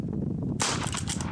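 A pistol fires a single sharp, loud report during a rapid six-shot, reload, six-shot drill, the bang bursting suddenly after a brief stretch of background rumble.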